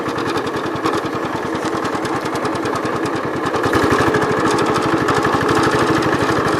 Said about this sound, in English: the rear end makes a little bit of noise, but it's also a gear drive